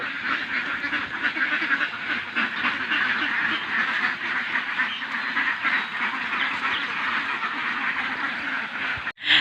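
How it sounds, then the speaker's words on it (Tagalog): A large flock of free-range ducks on a Philippine duck farm quacks in a dense, continuous chorus close by as they are let out, with overlapping calls throughout. "naglabas po ng mga alagang itik po natin"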